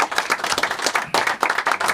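Audience applause and clapping in a TV studio show, a dense patter of hands sustained through the whole moment, loud and close with uneven rises and dips.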